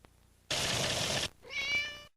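A cat in a Purina Cat Chow advert gives a loud, close meow after a burst of noise, ending with a short rising tonal cry.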